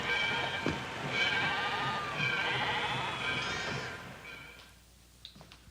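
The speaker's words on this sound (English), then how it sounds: "let's go watch them slaughter the sheep" Sheep bleat repeatedly in a livestock pen before slaughter, their wavering calls overlapping at close range with faint shuffling beneath, then fading to near quiet at the end.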